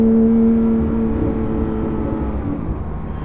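Inside a Porsche GT3 RS with an AWE exhaust, with a side muffler and the center muffler deleted, the engine drones steadily while driving, loud and close, easing slightly toward the end.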